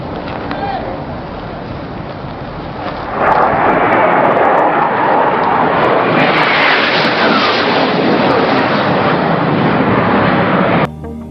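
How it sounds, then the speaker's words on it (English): A military aircraft roars in low over a ship's flight deck at bridge-wing level, a loud, broad engine rush that swells midway and holds steady before cutting off abruptly. "Looks like you may come across the flight deck, coming in low, bridge wing level."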